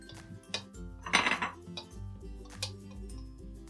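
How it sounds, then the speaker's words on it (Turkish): Homemade spreadable chocolate is scraped from a container onto a plate, with close clinks and scrapes of a utensil against dishware and a brief louder scraping burst, alone and fairly quiet. "Şöyle hemen sıyırayım. Şöyle tabağın içerisine alayım."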